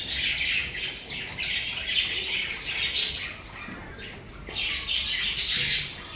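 A pair of caged pet birds gives loud, shrill squawks and chirps in repeated bursts, close by and dominating, with brief quieter gaps between calls.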